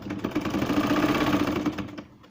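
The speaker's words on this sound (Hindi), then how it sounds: "हिन जी सिलाई कंप्लीट कंदासीं।" A sewing machine runs steadily, stitching a baby frock, with a fast even needle rhythm that slows and fades at the end, close and alone without talk.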